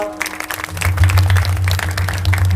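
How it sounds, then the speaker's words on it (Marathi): Applause from the audience at a Hindu Harinam Saptah religious gathering in Godhegaon, a dense clatter of many hands clapping with a steady low hum underneath, lasting a few seconds. "सर्वांनी एकदा जोरात टाळ्या वाजवा"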